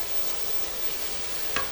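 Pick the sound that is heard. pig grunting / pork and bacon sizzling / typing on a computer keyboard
pork and bacon sizzling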